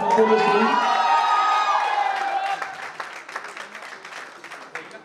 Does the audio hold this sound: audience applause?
yes